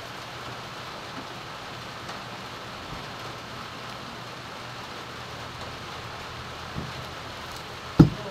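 Heavy nonstop rain falls steadily in a cold, rainy spell, a dense even hiss that fills the whole stretch, broken only by one sharp knock near the end.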